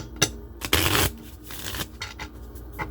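Oracle cards being shuffled by hand in a few short bursts, one louder riffle among softer slides and taps, close up with no voices.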